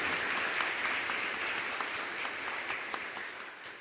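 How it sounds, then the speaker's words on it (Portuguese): Applause from a church congregation during an Easter mass, a dense, steady patter of many hands clapping that fills the whole stretch and eases slightly toward the end. "Pode aplaudir."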